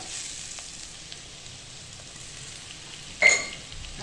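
Onions sauté in a pan, giving off a steady, soft sizzle that runs the whole time. A brief, louder scrape of stirring comes near the end.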